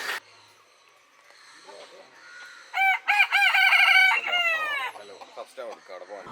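Chickens cluck and a rooster crows loudly and close by, with bursts of squawking over a quiet farmyard background.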